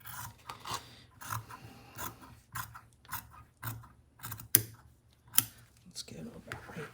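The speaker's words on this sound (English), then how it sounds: "I'm just going to trim." Scissors snip through paper for a handmade no-sew accordion junk journal, a steady series of close, crisp cuts about every half second, with two sharper snips near the end.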